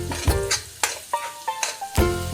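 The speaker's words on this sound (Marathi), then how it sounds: "आपलं तेल तापलेलं आहे त्यामध्ये आता आपण जे आलं लसूण खोबरं याचं वाटण केलं होतं ना कोथिंबीर टाकून ते परतून घेणार आहे" Ginger, garlic and coconut paste with coriander hitting hot oil for dry mutton fry, sharp sizzling bursts with several stirring scrapes in quick succession, close and fairly loud.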